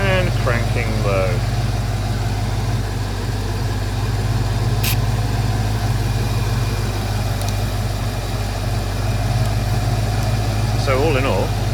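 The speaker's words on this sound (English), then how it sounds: "excuse the noise of the engine, is bad because this car hasn't been run for a long time." A car engine that had sat unused for a long time runs steadily at idle, a constant low rumble throughout with a person talking over it intermittently.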